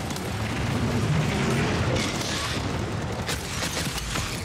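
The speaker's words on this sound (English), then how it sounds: "Throw a little sideways grenade at him." A grenade blast in MW3 Zombies, a loud, dense boom with crackling debris that fills the whole moment, followed by further rumbling bursts and game noise.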